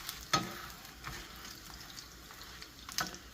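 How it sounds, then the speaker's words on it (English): A tortilla crisps in a hot pan for a sweet treat, giving a faint, steady sizzle with a few soft crackles and clicks near the start and end. "Just want to go for a minute or two just to crisp it up just a tiny bit."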